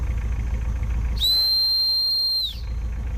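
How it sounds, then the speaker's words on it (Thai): A sharp whistle blown to call hawks at a hawk conservation community, one clear sustained high blast of about a second, alone over low background noise. "ผมก็ต้องใช้สื่อนะครับเสียงนกหวีดนะครับ"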